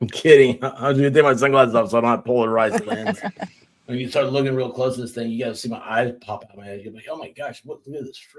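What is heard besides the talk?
None of the usual background noises is heard.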